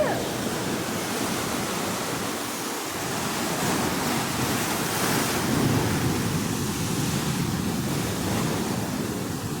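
Ocean surf washes continuously onto a beach, a broad, steady roar with gentle swells and some wind buffeting the microphone.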